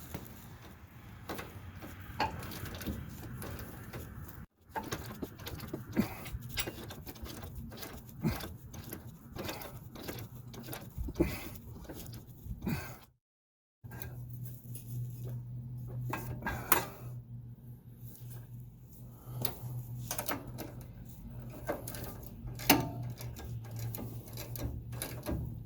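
Metallic clinks and ratcheting clicks from tightening steering parts on a Toyota pickup, a steady run of close, irregular taps with a brief silent gap midway.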